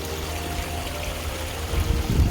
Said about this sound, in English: split waterfall